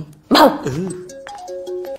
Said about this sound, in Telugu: కుక్క పిల్లకి కోపం వచ్చిందా?